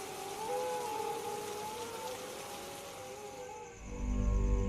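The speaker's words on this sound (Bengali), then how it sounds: "বাইরে এত বৃষ্টি হচ্ছে" Steady rain falling outside, a continuous hiss with a faint tonal hum, ending in a deeper low rumble, with no one speaking.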